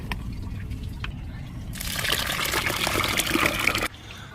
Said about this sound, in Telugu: ఈ తెచ్చుకున్న ఆవు పేడనైతే కలిపేస్తున్నాను